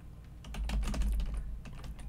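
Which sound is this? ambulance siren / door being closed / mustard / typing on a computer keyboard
typing on a computer keyboard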